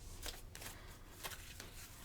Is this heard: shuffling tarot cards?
yes